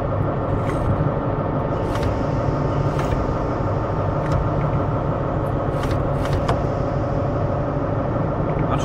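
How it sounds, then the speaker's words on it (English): Brakes working on an LNER Class 43 HST in Train Simulator 2020, a steady low rumble and hiss of the train running, with faint clicks and releases as the brake notches change, continuous and fairly loud throughout. "the brakes, you can hear them working where they're going through the different notches"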